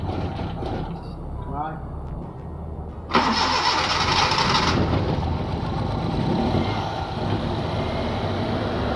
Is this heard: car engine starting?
yes